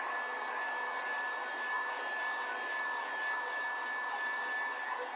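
A hair dryer runs steadily to dry a painted wood spindle flag, a continuous close whooshing hiss with a faint high whine and no pauses.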